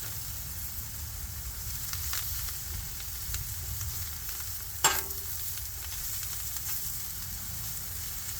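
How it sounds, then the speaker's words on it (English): Stir fry of carrots and peas sizzling steadily on a Blackstone flat-top griddle, a continuous close hiss with a sharp metallic scrape of a spatula near the middle. "Get that sizzled up a little bit."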